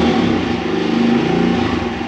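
A dirt bike engine runs loud and close, holding a steady high buzzing drone throughout.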